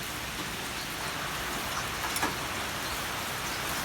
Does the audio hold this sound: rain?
yes